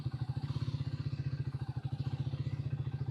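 A new Triumph Speed 400 motorcycle idles in first gear during a pre-delivery inspection, its single-cylinder engine throbbing in a steady, rapid thumping pulse, close and even throughout with no voices.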